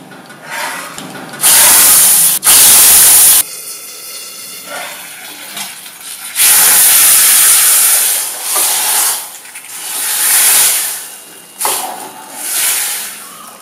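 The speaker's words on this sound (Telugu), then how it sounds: "ఆ తాలింపును పప్పుచారులో కలపాలి" A hot tempering of chillies, fenugreek, urad dal, cumin, mustard seeds, curry leaves, asafoetida and turmeric hits tamarind dal soup. It gives loud, close bursts of sizzling hiss that flare and fade repeatedly, with no talking.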